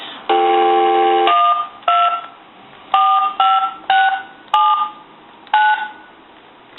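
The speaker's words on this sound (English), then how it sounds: "Now it's starting to hit all the numbers, but I can tell that the keypad is dirty." Keys on a VTech 2431 cordless phone with a dirty keypad sound loud, close DTMF tones: one long beep, then a string of short uneven presses with gaps between them.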